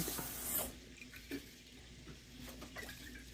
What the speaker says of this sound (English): I'm going to put a little water in there